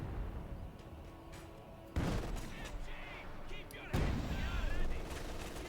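Sustained MG-42 machine gun fire in the WWII strategy game Company of Heroes 2, loud bursts of gunfire with sharp onsets mixed among other battle sounds, while a commentator talks over the action.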